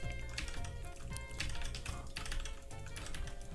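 Fast typing on a Keyz Rubidium mechanical keyboard, with a steady stream of quick, close clicky keystrokes at a fairly low level and no talking.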